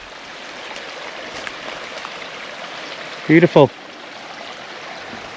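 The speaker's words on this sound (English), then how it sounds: "We've got running water." Steady broadband rush of running stream water fills the whole clip, with a short spoken word breaking in briefly near the end.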